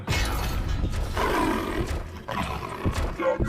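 A deep, rumbling tiger roar in a RoboCop video game rises and swells over a few seconds, loud and close, with growling grunts following.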